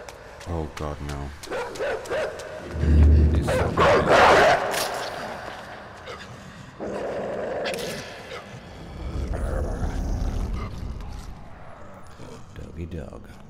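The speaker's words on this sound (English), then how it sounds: "Dog." A dog in the side-scrolling game Inside barks in a few short bursts against an ambient game background, with a person talking intermittently over it.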